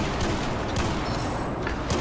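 Dense, continuous gunfire from Battlefield 4, a rapid loud barrage of shotgun shots filling the whole moment with no pause.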